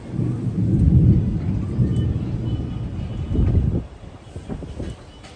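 A deep rumble of thunder rolls loudly for several seconds, then fades into steadier rainfall with scattered drops and light wind.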